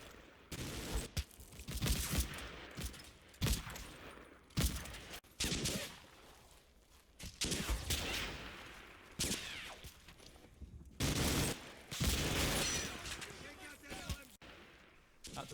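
Small-arms cover fire from the Combat Mission Fortress Italy video game crackles in repeated bursts and single shots over about fifteen seconds, loud and irregular, with scattered louder cracks and some background noise between volleys.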